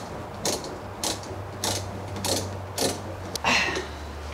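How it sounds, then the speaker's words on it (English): A ratchet wrench clicks in short bursts while brake pads are changed on a vehicle, roughly six quick ratcheting strokes spaced about half a second apart at close range over a low steady hum. "Ratchet."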